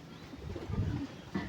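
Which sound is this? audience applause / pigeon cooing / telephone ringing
pigeon cooing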